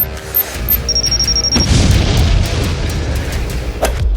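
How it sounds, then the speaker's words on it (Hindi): Firecrackers going off, a loud booming burst followed by a rumbling tail and a smaller pop later, close and heavy, with no talking. "ये तो पटाखे हैं।"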